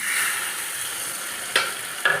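Hot tempering poured into a pot of sambar sizzles steadily, a close crackling hiss running throughout with two brief sharp spatters near the end.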